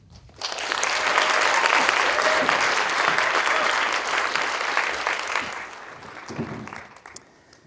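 An audience bursts into sustained applause to welcome a speaker at a talk on religion and dancers' performance intentions, loud and even for several seconds before tapering off.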